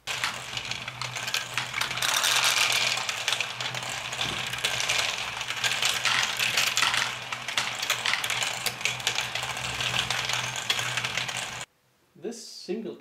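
A motor-driven LEGO GBC hamster wheel module churns plastic balls in a continuous dense clatter of rattling, ratcheting clicks, steady and close for about eleven seconds before cutting off abruptly into near silence.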